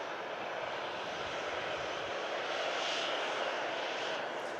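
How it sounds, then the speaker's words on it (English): A Ryanair Boeing 737 taxis past the runway viewing area at Manchester Airport after landing on runway 23 right, its engines giving a steady, loud broadband roar that swells slightly toward the end. "Ryanair 737 just landed here on 23 right, just vacated. And now it's taxiing past us"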